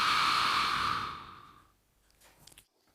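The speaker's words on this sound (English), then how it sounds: "Exhale." A steady, breathy exhale during a seated shoulder exercise routine for older adults, close and fairly loud, tapering off after about a second and a half, followed by faint rustling.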